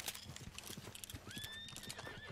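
Horse hooves clip-clop in the Red Dead Redemption II video game, a quick steady trotting rhythm of soft thuds, with a short whinny partway through, fairly quiet overall.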